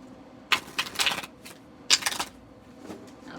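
A new Pagan Other Worlds tarot deck is riffle shuffled by hand in two quick bursts of crisp card flutter, each about half a second long. The shuffles are close and fairly quiet, with a soft shuffling lull between them.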